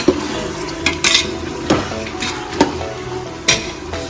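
Chopped mint leaves stirred and fried in a pan while making biryani, with a steady sizzle under repeated scraping clinks of a spoon against the pan at irregular intervals, close and fairly loud.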